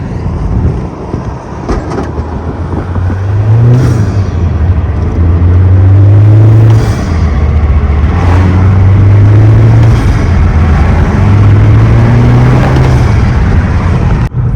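A turbocharged car pulls hard from 0 to 60, engine note climbing loudly in repeated rising sweeps through the gears, heard from inside the cabin with heavy wind noise throughout.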